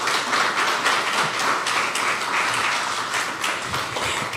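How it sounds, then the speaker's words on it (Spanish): A church congregation claps together in a steady, dense round of applause, loud and close, lasting the whole stretch without voices over it. "Démosle otro aplauso, sí,"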